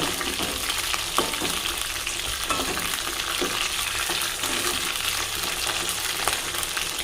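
Brinjals fry in oil in a pan with a steady, dense sizzle throughout, broken by a few faint clinks and stirring sounds, close and fairly loud.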